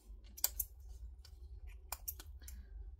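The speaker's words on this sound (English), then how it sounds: "we're going to cut off most of the seam allowance" Scissors snip through fabric seam allowance in a few quick, close cuts, with brief sharp clicks scattered over a quiet room.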